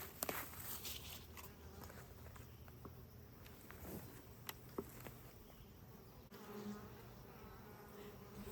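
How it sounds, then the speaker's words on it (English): A steady, close insect buzz of honeybees hovering around an open hive during a hive inspection, with occasional faint clicks and soft handling noises in the background. "There's still a few bees in there."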